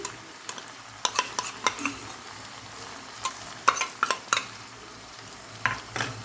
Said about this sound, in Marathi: याला मस्त फ्राय करून घेऊ मसाला याच्यामध्ये एवढं तेल बस होऊन जातं